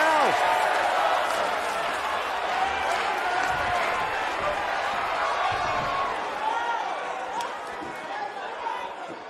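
A wrestling arena crowd in the video game WWE 2K19 roars and cheers in a steady, loud wash of noise throughout, with a voice talking over it.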